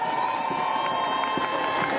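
Roadside crowd at the Paris 2024 para cycling road race cheering a Brazilian rider, a steady wash of shouts and cheers with a sustained whistle-like tone and scattered claps, fairly loud throughout.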